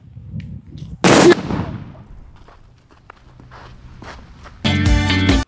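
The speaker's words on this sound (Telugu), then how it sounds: "సో ఇది బీభత్సమైన బ్లాస్ట్ సౌండ్ అండ్ ఇందాకడికి వచ్చిందానికి ఒక 10 రెట్ల సౌండ్ వస్తుంది." A movie bomb blast effect made with powder and thrown soil goes off in one sudden loud burst, followed by scattered debris patters and quiet, then another loud, rough burst near the end.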